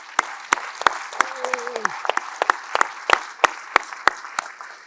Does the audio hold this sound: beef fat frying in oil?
no